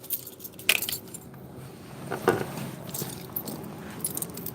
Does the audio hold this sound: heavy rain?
no